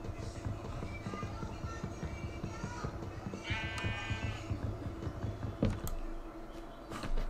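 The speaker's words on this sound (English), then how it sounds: "But there's goats here." Goats bleating in RLCraft, the Minecraft mod, a few short bleats at moderate distance over a steady bed of game ambience and footsteps.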